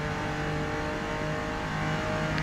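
A Porsche 914-6 racing at Road America in the Forza Motorsport video game, its engine holding a steady, continuous drone at high revs with no talk over it.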